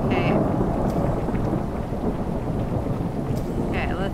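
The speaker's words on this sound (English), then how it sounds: "The storm's getting worse." Thunder rumbles over steady heavy rain in the video game Airport Renovator, a loud constant downpour that fills the whole stretch with a few brief higher accents.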